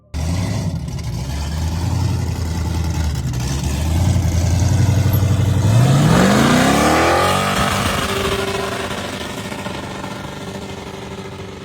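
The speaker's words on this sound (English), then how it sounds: "Here's a classic 1986 Ford Mustang that's been given a thrilling twist with a small block Chevrolet motor under the hood." A 1986 Ford Mustang fitted with a small-block Chevrolet engine idles loudly, then revs with a rising, throaty sweep before settling back, heard up close and alone.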